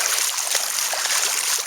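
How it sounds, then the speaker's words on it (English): People wade through shin-deep floodwater while crossing a road, one in flip-flops, giving a steady close splashing and sloshing wash of water with no talk. "I'm sure they can hear us walking through the water"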